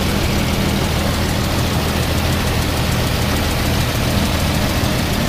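A 1976 Jaguar XJ12's V12 engine idles steadily and smoothly, a dense continuous rumble with no talk over it.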